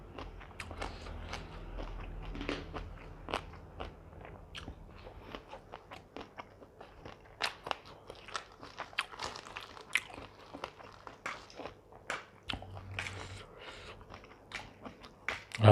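Someone eats spicy papaya salad with pickled field crab, with close, crisp crunching and chewing bites repeating irregularly throughout, fairly quiet overall.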